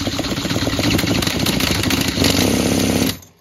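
A cordless drill cranks an older Poulan Pro leaf blower engine for a compression test, a loud, steady, rattling whir with rapid chugging pulses that runs for about three seconds and then cuts off abruptly.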